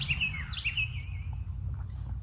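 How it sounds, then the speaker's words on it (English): Wild birds call close by with a few bright chirps and a sliding whistle-like call, over a steady low hum and faint background noise, with no talking. "the wild birds, they chase me down and scream at me if I haven't given their seed yet"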